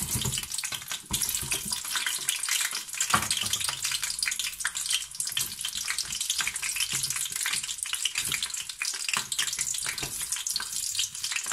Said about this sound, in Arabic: انا تو باش نقلي الفلفل، انا نقلي الفلفل من اللول ونخرجه باش يسيب المطعم نتاعو في الزيت